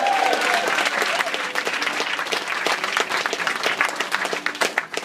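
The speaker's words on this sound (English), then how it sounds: "Give him a big round of applause now." Sustained audience applause for a member of a céilí band, dense and steady from a large crowd for about five seconds, with faint voices mixed in.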